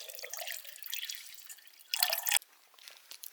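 Mountain spring water drips and splashes close by, in irregular drops with a brief louder gush near the middle, heard alone with no voices.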